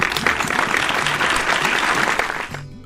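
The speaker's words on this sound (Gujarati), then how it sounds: "ચાલો તાળીઓથી એમને પણ વધાવીએ" Audience applause at an award ceremony, a dense, steady burst of many hands clapping together for nearly three seconds before cutting off abruptly.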